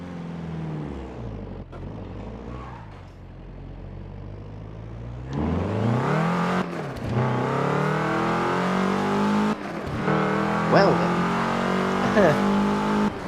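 A four-cylinder car engine in Forza Horizon 4 roars and shifts through revs in bursts, with a brief voice speaking partway through.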